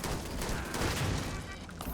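A turret in the space game Starfield fires a rapid burst of gunfire, a dense, rattling barrage of shots that fills the short moment at moderate loudness.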